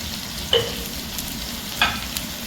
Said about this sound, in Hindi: तो अब हम इसे थोड़ी देर भूनते हैं, अराउंड 2 to 3 मिनट, जब तक कि टमाटो अपना मतलब अच्छे तरीके से कुक ना हो जाए